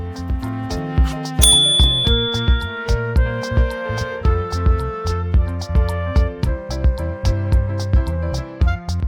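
A bright notification-style bell ding rings once near the start, layered over steady rhythmic background music that continues throughout.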